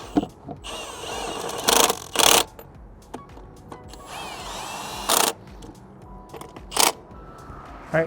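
An impact gun snugging up axle bolts on a Freightliner Cascadia rear axle, firing in several short, loud, separate bursts with quiet workshop noise between them.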